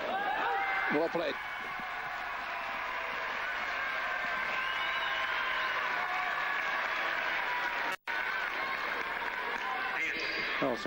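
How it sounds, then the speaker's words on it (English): Tennis crowd at a 1998 Doha match between Korda and Santoro giving genuine applause, a steady wash of clapping at moderate distance with a few voices and whistles mixed in. "some genuine applause on this occasion rather than just screams"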